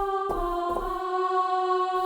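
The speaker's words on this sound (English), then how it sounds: "it's a woman going ah, or, you know, a choir" A synthesized choir-style 'ah' vocal pad from a default synth preset sustains its steady harmonic tones for about two seconds, loud and alone, with a few soft percussive hits underneath.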